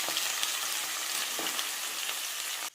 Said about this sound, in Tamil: கொஞ்சம் அப்படியே இதை வதக்கி எடுத்துக்கலாம் எண்ணெயிலேயே கொஞ்சம் வதங்கி வரட்டும்